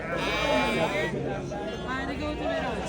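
Several sheep bleat amid a crowded livestock market in Angren, their calls overlapping with nearby people talking and general bustle.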